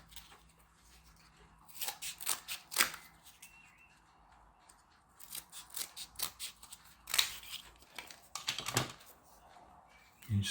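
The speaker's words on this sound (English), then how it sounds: "scissors will probably do the job." Scissors cut through cardboard in short, crisp snipping bursts, with clusters of sharp close-up crunches separated by quieter pauses.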